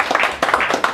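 Audience applause at a book launch event, a brief burst of scattered hand clapping lasting about a second, fairly close and loud.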